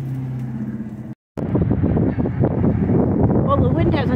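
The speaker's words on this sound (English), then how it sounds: "Well, the wind hasn't died down." Strong wind blows outdoors, buffeting the microphone with loud rumbling gusts. A brief dropout cuts it, then the gusting continues and a voice speaks faintly underneath.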